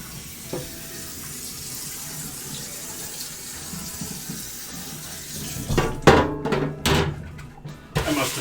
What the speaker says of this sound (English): We'll give this pan a quick scrub out.